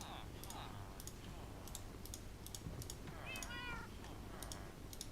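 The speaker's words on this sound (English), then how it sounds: "You can hear the cats" Cats meow softly in the background of a quiet room, a few faint wavering cries around the middle, mixed with steady keyboard and mouse clicking and low ambient noise.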